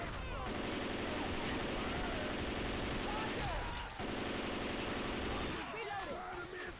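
Gunfire from a Left 4 Dead 2 Versus match, sustained rapid automatic bursts hammering loudly almost nonstop, with a brief pause partway through and the shooting cutting off near the end.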